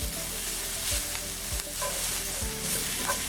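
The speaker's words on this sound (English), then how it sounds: "we're going to give this a good stir and let this cook for about 2 to 4 minutes" Spinach wilts in a hot skillet, sizzling steadily throughout while a spoon stirs it in several low scraping sweeps, close by and with no voices.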